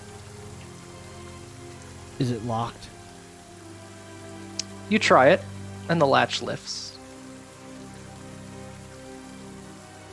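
Steady rain falls as a constant hiss behind a game master's narration during a Curse of Strahd tabletop session at the walls of Castle Ravenloft; a voice speaks over it in short bursts.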